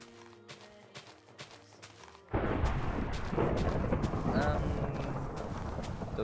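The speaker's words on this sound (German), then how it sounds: "ich höre gerade überhaupt nichts wegen dem Donner. Das ist so laut." Loud Minecraft thunder bursts in abruptly after a quieter stretch of game sounds and rumbles on, broad and heavy, filling the rest of the moment.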